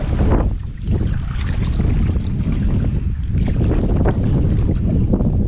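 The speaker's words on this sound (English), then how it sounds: "And you can probably hear the wind a little bit." Wind rushes and buffets across a lake in Northern Saskatchewan during a solo canoe trip, a loud, continuous gusty roar with microphone wind noise and no speech.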